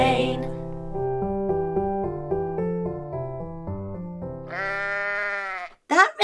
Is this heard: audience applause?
no